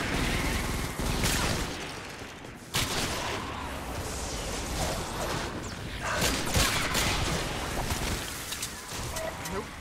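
Rapid gunfire crackles through a Fortnite Save the World firefight, with repeated sharp shots and bursts over busy game noise, and a player talking at times.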